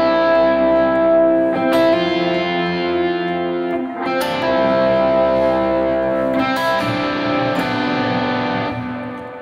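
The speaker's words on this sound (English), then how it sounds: "a kind of a big sound like I've got dialed in here with a lot of delay and reverb" An electric guitar plays ringing chord fragments in a worship rhythm style, with heavy delay and reverb. Loud strums repeat every couple of seconds, each washing into long, echoing sustain.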